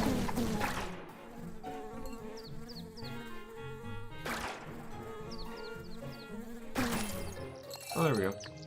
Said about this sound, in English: Especially with all these elite bees.